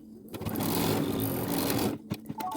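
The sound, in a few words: embroidery machine stitching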